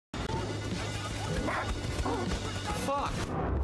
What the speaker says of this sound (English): The dog ran out of nowhere.